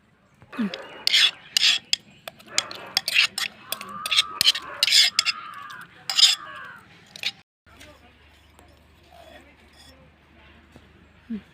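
Wood apple chutney being mixed and scraped with a utensil, rhythmic rasping strokes with a few clinks, loud and close for several seconds before fading into quiet background.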